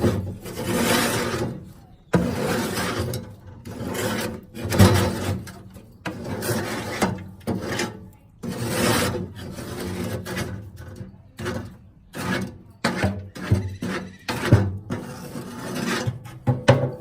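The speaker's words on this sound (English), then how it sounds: "all I need to do is I take my scraper and quickly" A scraper rasps across the residue coating inside a smoker in repeated brisk strokes, loud and close, with short pauses between bursts and no talk.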